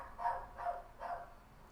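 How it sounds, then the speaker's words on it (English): A neighbor's dog barking from next door, three quick, evenly spaced barks, somewhat muffled and moderately distant, with no one speaking. "I think that's our neighbor's dog that's barking."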